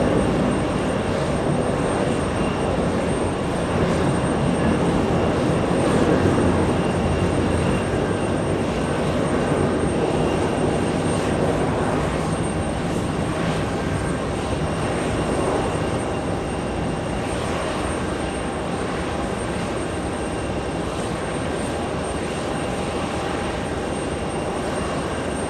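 An ITA Airways airliner departs JFK bound for Rome, its engines a steady, broad roar that holds at moderate distance throughout with no talk over it.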